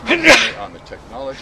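A single sharp sneeze bursts out early and loud, with a person talking right after it.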